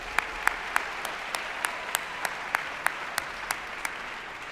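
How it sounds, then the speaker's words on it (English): Sustained applause from a crowd at a Martin Luther King Day celebration in Montgomery County, an even wash of clapping with a few sharper individual claps standing out, no voices over it. "Let's give them another round of applause"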